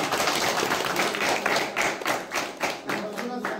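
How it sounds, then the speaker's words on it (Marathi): Students in a school classroom break into loud, sustained applause, dense rapid clapping filling the room close by with a few heavier rhythmic beats near the end. "1 मिनिट हिच्यासाठी जोरदार टाळ्या"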